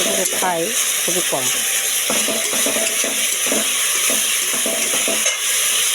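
Spice paste sautéing in hot oil for a fish curry, a steady sizzle with stirring scrapes throughout while someone talks over it.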